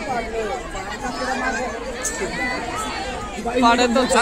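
Dense crowd chatter at a Sant Dnyaneshwar Maharaj samadhi festival procession, a steady babble of many voices close around, swelling louder near the end.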